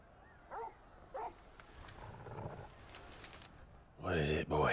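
A dog in the video game Final Fantasy XVI gives a couple of short yips, then a louder, harsher bark near the end, over a quiet, murmuring background.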